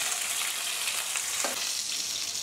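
Hilsa fish frying in a pan gives a soft, even hiss of sizzling oil, close by and unbroken for the whole short stretch, with no talking.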